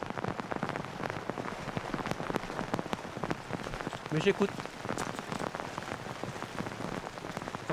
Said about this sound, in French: Avec la pluie intense